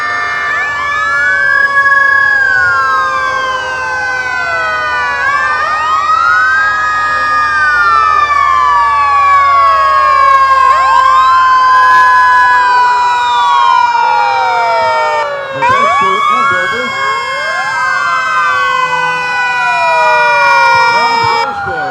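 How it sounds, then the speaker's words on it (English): A Wellsville fire truck siren wails loudly and continuously in a parade, its rising and falling sweeps repeating nearby with no pauses. "And Wellsville Fire Truck number 7."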